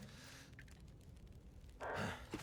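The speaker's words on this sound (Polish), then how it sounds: "Co on tak oddycha?" A player character in the survival video game The Long Dark breathes heavily. Faint, ragged breaths build to a louder, sharper gasp near the end.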